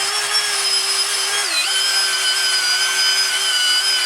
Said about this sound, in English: take your drill with the cup bit and you're going to start to work the surfaces